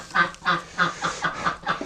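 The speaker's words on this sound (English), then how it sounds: "Oh, look at that, we got a duck here." A duck calls in a quick series of about seven loud, nasal quacks, evenly spaced and close by.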